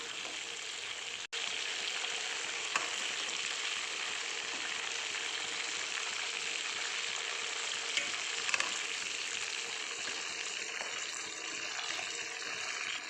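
Chicken leg pieces for chicken 65 deep fry in hot oil, giving a continuous close crackling sizzle with scattered small pops throughout, no voices.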